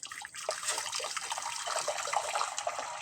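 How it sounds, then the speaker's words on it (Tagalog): Heated water poured from a container into a cooking pot in a rural home kitchen, a steady splashing gush that holds for a few seconds, close and fairly loud. "At nag-init na ako ng tubig para madali na lang ito. Ibubuhos ko na dito."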